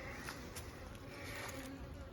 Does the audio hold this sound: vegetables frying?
no